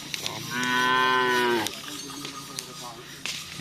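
A young bull mooes during karapan sapi bull racing practice in Pamekasan, one loud, close, drawn-out call of about a second, followed by faint clicks and outdoor background noise.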